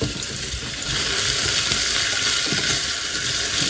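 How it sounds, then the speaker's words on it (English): Onions sizzling in gently heated olive oil in a pan on the stove, cooked for a Spanish tortilla: a steady, close bubbling hiss that swells slightly after the first second and holds evenly, with no talking. "So I'll put some olive oil into the pan and just heat that gently on the stove. And then I'm going to add the onions."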